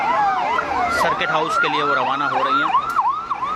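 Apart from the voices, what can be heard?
sirens of a motorcade's vehicles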